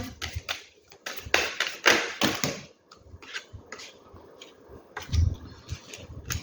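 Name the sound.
tarot cards being shuffled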